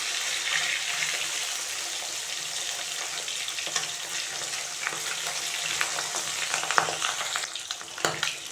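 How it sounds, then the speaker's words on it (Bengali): Pabda fish lightly frying in oil, a continuous close sizzle and crackle with scattered pops and occasional utensil clicks as pieces are moved, no voices. "বেশি ভাজবো না, হালকা ভাজবো।"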